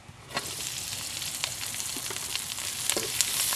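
Green chilies and onion frying in mustard oil, a close, bright crackling sizzle with scattered stirring scrapes and pops that grow slightly louder toward the end, with no voices.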